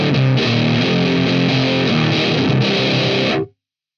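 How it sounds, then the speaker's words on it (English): Distorted electric guitar through a Nux Recto distortion pedal, loud sustained chords and riffing with a thick saturated tone, cutting off abruptly near the end. "So now we turn that on and we get our distortion from where we left off."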